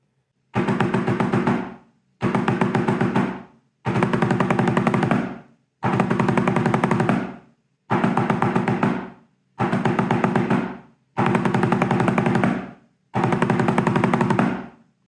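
Snare drum plays a 15-stroke roll rudiment over and over, eight dense buzzing rolls of about one second each, separated by brief silences, close and even in loudness.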